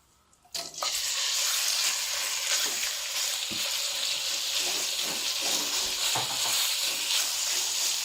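Ingredients for a chicken vegetable soup hitting hot oil burst into a loud sizzle after a short quiet start, then keep up a strong, even fry dotted with occasional stirring clicks.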